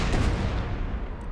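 Cannon fire in Empire: Total War, Brothers vs. Brothers Civil War mod: a single heavy, close boom rolls out into a long, fading rumble.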